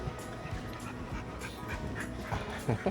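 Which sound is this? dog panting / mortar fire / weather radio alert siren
dog panting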